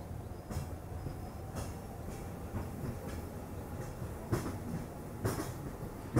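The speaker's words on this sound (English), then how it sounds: "I think the tram's coming, so let's hang out here for a second." A Hong Kong tram rolls past on a street, a steady low rumble with rhythmic clicks of wheels over rail joints, moderately near and without talk.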